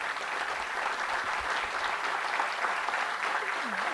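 Sustained crowd applause rolls through a ceremony audience in Ecuador, a soft, even wash of many hands clapping at a moderate distance with no pauses.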